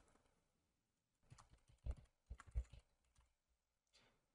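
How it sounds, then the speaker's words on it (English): Password being typed on a computer keyboard, a quick run of soft key taps in short bursts with a brief pause between, fairly quiet and close, no voices. "I'm just going to type in a password here."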